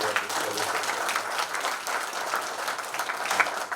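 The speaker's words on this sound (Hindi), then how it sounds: "एक बार जोरदार ताली के साथ उनका" An audience at a public event applauds a party general secretary with dense, continuous clapping that holds steady and fairly loud throughout, with no voices standing out.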